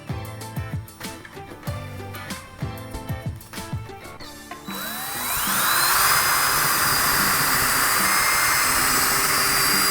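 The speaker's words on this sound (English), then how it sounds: "I'm using a 7/32 inch drill bit to pre-drill holes in my wall." Electric drill with a 7/32 inch bit boring holes into a wall, a loud sustained high whine rising as it spins up and cuts, preceded by a stretch of background music.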